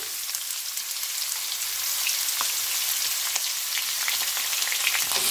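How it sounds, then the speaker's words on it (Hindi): Medium chopped onions fry in hot oil, giving a dense, steady crackling sizzle with scattered pops that grows slightly louder partway through and has no voices. "अब हमने इसी ऑयल में ये जो हमारे मीडियम अनियन काट के रखे थे ये डाल देंगे।"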